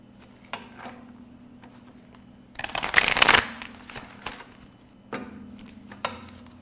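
A deck of cards shuffled up close in one loud riffling burst, framed by a few soft taps and card handling before and after, with no talking.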